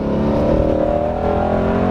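A Shelby fitted with new winter tires is driven hard on a slippery track, its engine revving loud and steady with a constant roar close by and no talk over it.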